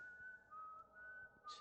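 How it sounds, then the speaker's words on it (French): A faint, thin sustained whistle drifts through a quiet, dark corridor in the horror video game White Day, holding a steady pitch with slight wavering before a brief soft noise at the end. "j'entends le sifflement par là"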